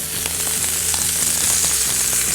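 Butter sizzling and melting into crushed crispy potatoes in a hot pan, a close, steady crackle with frequent small pops.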